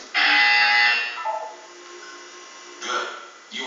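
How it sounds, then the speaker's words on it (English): A harsh electronic buzzer in the video game Portal 2 blares for about a second, fades into a humming tail, then sounds again briefly. "You will hear a buzzer."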